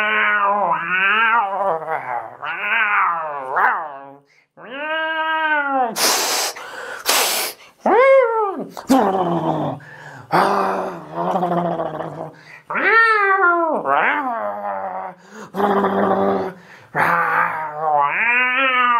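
People voice the growls, wavering yowls and hisses of an angry cat, imitated with their own voices in loud repeated bursts with short pauses, several voices overlapping at times.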